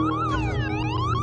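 An approaching ambulance siren wails, rising and falling over a low engine rumble, loud and steady throughout with no break.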